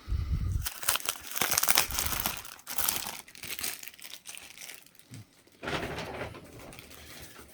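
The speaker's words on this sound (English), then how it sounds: "I will cut the plastic here" Plastic wrap on a 1989 Fleer baseball wax pack box is cut and pulled away, with loud close crinkling and crackling in irregular bursts and short pauses between them.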